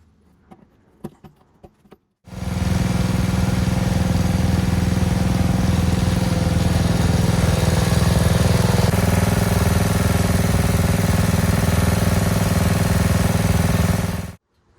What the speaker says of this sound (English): We'll go ahead and get this thing fired up, get the hydraulic oil running back through the cylinder again.